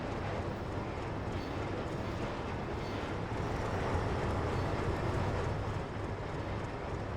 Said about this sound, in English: I love the sound of the train cars.